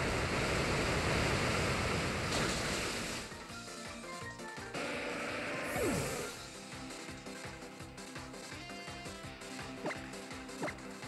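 Surf attack in Pokémon Ultra Moon: a loud rushing wave surges and crashes, then fades into lighter splashing with a few sharp game hits near the end.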